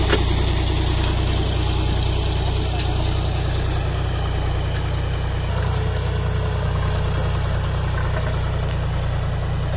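A John Deere 5205 50 hp tractor engine drones steadily and loudly while pulling a harrow deep through soil in a field, a continuous low rumble with no breaks, with a voice talking over it.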